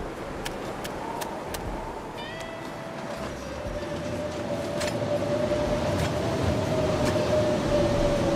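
Steady metallic rattling and creaking of railroad cars, with a low rumble and a sustained whining tone, close by and continuous, with scattered sharp clicks.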